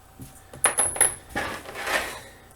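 Metal 1/4 inch washers dropping onto a hard surface, a cluster of bright jingling clinks and small rattling impacts scattered over a couple of seconds, close and clear with no talk.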